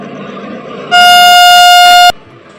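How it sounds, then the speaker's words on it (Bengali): Tamralipta Express bound for Digha entering platform five, one sustained loud horn blast lasting just over a second, sounding alone over low station noise. "দেখতে পাচ্ছেন এক্সপ্রেস ট্রেন ঢুকছে পাঁচ নম্বর প্ল্যাটফর্মে"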